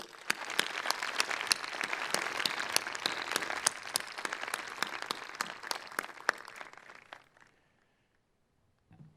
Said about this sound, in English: Please give a round of well-deserved applause for our trustee,